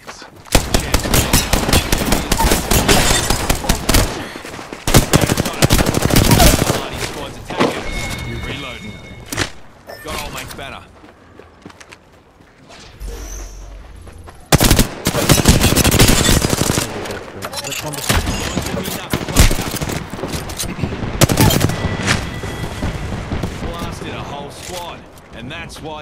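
Rapid automatic gunfire bursts in Apex Legends, loud and dense, broken by short pauses and in-game sound effects, with player talk heard between the shots.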